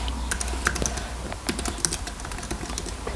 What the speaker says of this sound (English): the first thing we need to do is type in an email address